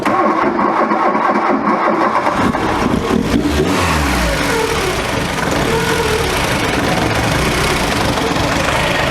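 A barn-find Volkswagen Scirocco, smoking and with a suspected failing alternator, cranks and catches a few seconds in, then keeps running with a loud, steady, slightly uneven engine roar close by.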